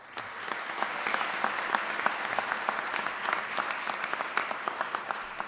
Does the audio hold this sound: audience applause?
yes